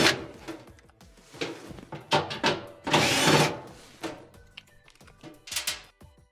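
Someone works loose the screws holding a Frigidaire oven's broil element with a hand tool, making close ratcheting clicks, metallic scrapes and soft knocks in uneven bursts.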